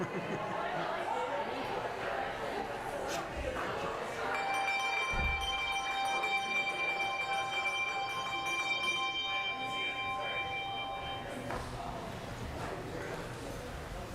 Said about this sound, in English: Hard to miss those bells.